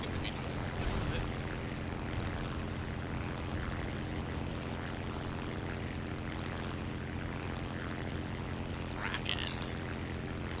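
An American propeller plane in War Thunder drones steadily throughout, a constant engine hum with wind noise and faint game effects, no pauses.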